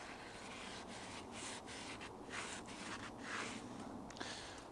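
A Scotch pad scrubbing a rusty cast iron pan, faint continuous rasping strokes with a steady back-and-forth rhythm, close and alone.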